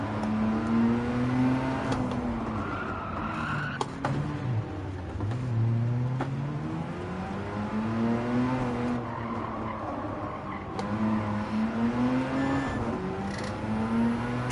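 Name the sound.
race car engine revving in Gran Turismo 7 video game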